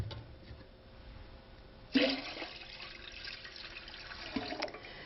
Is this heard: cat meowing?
no